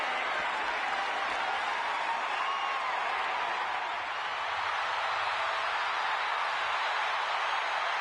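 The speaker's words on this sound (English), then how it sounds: "The crowd on their feet." A wrestling crowd at a King of the Ring event in Rome cheers and applauds in a dense, steady roar of clapping and shouting that holds at an even level throughout.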